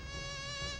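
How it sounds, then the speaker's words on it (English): A mosquito in the video game Zelda's Adventure gives off a steady, thin, high-pitched electronic buzz, unbroken and close, with a faint low hum beneath it. "more mosquito sounds"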